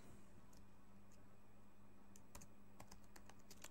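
Keystrokes on a computer keyboard while entering text into a school timetable in MS Word, faint scattered clicks that come in a brief burst near the end over steady low background hum.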